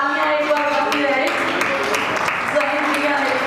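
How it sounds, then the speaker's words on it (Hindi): Clapping from an audience at the Amar Kala Mahotsav cultural event, light and scattered beneath someone speaking over a microphone, the speech staying in front throughout. "तो तालियां एक बार बनती रहे"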